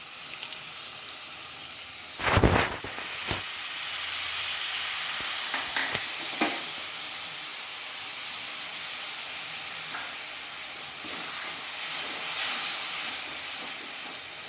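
Spice-water mixture sizzling and hissing in a hot pan while cooking a jackfruit curry, with a loud burst of frying sizzle early on, then a steady low hiss and occasional stirring scrapes, with no talk.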